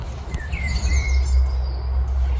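A bird chirps beside a field near Mule Varde in Porsgrunn, Norway, giving a few thin, sweeping whistled calls over a constant low outdoor rumble.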